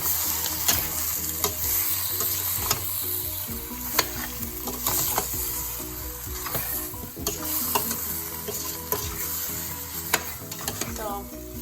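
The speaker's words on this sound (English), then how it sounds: "I'm gonna stir it." Butternut squash soup with black pepper is stirred in a pot, a steady close sizzle running under repeated scraping strokes of a spoon for the whole stretch, with faint music-like tones behind it.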